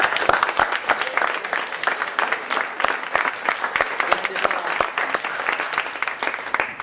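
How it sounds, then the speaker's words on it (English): Audience applause for debaters at the close of a debate, sustained clapping with sharp individual claps standing out, moderately loud and continuous for several seconds. "let's just give one last round of applause to our debaters"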